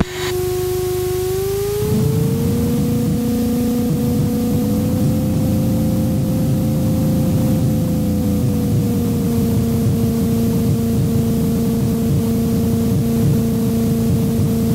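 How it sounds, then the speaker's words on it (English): A Sport Cruiser light aircraft taxiing onto the runway for departure, its engine droning steadily and loud throughout, with a rise in power after the first couple of seconds and a continuous hum after that, no talk. "Sport Cruiser 4 Hotel Bravo is taxiing onto runway 34 for departure"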